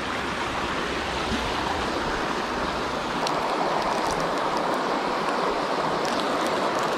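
Fast-flowing mountain stream water in Vermont rushes steadily and loudly at close range, an unbroken broadband roar with no voices.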